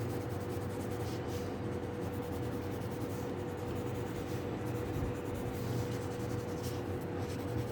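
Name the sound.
shading with a 4B pencil on paper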